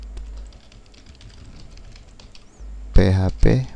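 Keys tapped on a computer keyboard while a web-hosting tutorial moves into phpMyAdmin: faint, scattered clicks over a low hum, then a voice speaks loudly near the end.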